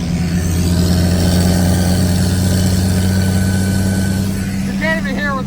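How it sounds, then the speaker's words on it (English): A lifted diesel monster truck with a hood stack and 40-inch tires runs loud and steady, a deep droning engine filling the cab close up, with a voice briefly heard near the end. "I forgot how loud this thing is with that hood stack."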